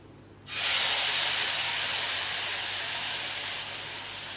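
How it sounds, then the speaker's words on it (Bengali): Spice paste hits hot oil in a pan with a sudden loud hiss that settles into a steady, close, broadband sizzle, slowly easing a little over several seconds, with no talk. "এবারে এইটা আমি তেলে দিয়ে দেবো।"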